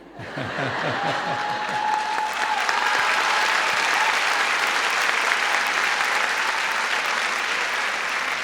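Theatre audience at the Teatro Oriente breaking into applause, building quickly from a few early claps into a full, sustained roar of clapping that fills the hall, with faint voices mixed in.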